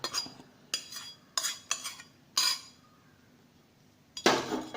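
A metal spoon clinks and scrapes against a cooking pot in a few sharp, separate taps as sautéed garlic goes into a drumstick vathakuzhambu, with quiet pauses between the clinks.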